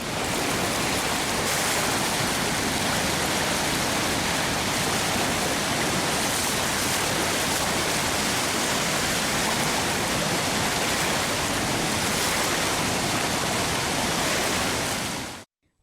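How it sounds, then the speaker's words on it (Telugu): Floodwater on the Godavari roars out through the 175 raised gates of the Dowleswaram barrage during heavy rains, a loud, dense, unbroken rushing wash that holds steady throughout. "ధవళేశ్వరం బ్యారేజీ నుంచి ర్యాలీ, మద్దూరు, విద్యేశ్వరం ఆర్ముల ద్వారా 175 గేట్లు ఎత్తి వరద నీటిని సముద్రంలోకి విడుదల చేస్తున్నారు"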